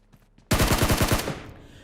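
Gunfire in the mobile battle royale game BGMI: a sudden rapid burst of automatic shots, about eight close, loud cracks in quick rhythm, then a fading tail.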